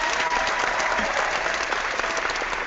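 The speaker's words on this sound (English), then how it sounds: "I'm only going to clap once. You guys know how I love to clap. Here it comes." Enthusiastic hand clapping from a crowd of people, a continuous dense patter of many claps at even loudness that carries through the whole stretch with no talk over it.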